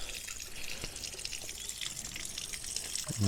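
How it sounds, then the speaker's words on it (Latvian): Water flows steadily along an old channel that has carried it down from the hills for centuries in Spain, a soft continuous trickling rush with faint drips, fairly quiet and unbroken. "Šitas ūdentiņš te tek jau visus šos gadsimtus."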